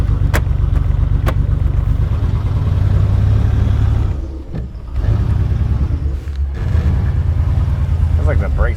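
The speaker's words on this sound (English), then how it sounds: "you hear it just popping and farting" Worn, misfiring truck engine rumbles heavily up close with irregular pops and farting backfires, dipping briefly twice before grinding on.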